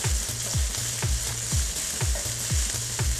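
Steady, crackling sizzle of meat frying in a pan, with regular low thumps recurring underneath throughout.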